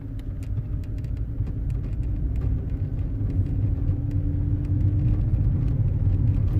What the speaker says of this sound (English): the car takes off from second gear